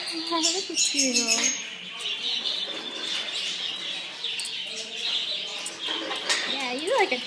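A pet bird chirps and coos up close, with warbling calls and soft rising coos while a person talks affectionately over them.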